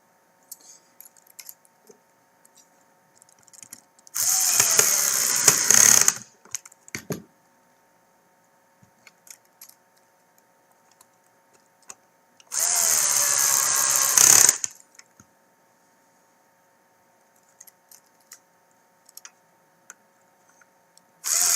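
A power screwdriver drives CPU board screws into a TAO/LX7 main base in two loud, close whirring bursts of about two seconds each, separated by quiet handling clicks.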